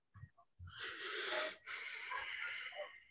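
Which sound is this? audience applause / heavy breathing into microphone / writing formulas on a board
heavy breathing into microphone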